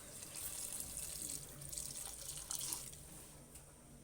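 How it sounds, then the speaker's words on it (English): Water running from a tap into a pan of egg curry being made into gravy, a steady soft hiss and splatter, faint and continuous with no talking. "And then I'll add water to make it to gravy because I need soup."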